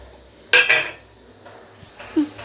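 Dry fruits are tipped from a cooking pan into another metal pot, giving two quick metallic clatters and scrapes, close by, followed by quieter clinks and a faint bump in a kitchen.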